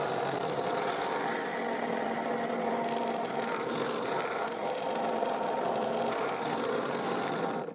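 A drill press boring a dowel hole in a wooden workpiece, its steady motor drone and cutting noise running continuously and fairly loud for the whole stretch, then cutting off abruptly at the end.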